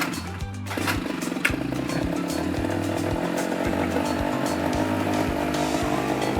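A cold 1968 Camaro SS engine fires up and settles into a loud, steady, rumbling idle close by, with no talking.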